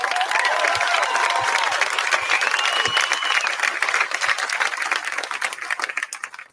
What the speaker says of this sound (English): and you clapped